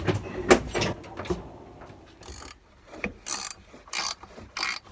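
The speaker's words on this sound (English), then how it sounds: "I'm gonna loosen the bolts for the height adjustment on that catch" Wrench work on the bolts of a dump truck hood latch catch, with ratcheting clicks, metallic clanks and scraping in irregular bursts, close and fairly loud.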